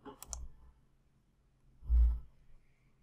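Two soft mouse clicks on a link in SharePoint Online, the second slightly louder, separated by a quiet pause in an otherwise silent room.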